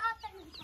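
A hen gives a short, close clucking call in a family village setting, a brief harmonic burst followed by softer trailing sounds, with a voice close by.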